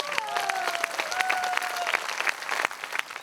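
An audience at a live storytelling performance claps for a newly crowned local beauty queen, with dense, steady applause from a crowd and a few voices rising over it.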